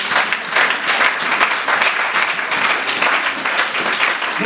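Loud, sustained applause from a church congregation at a Sunday worship service, many hands clapping close and dense with a few cheers mixed in, continuing steadily without a break.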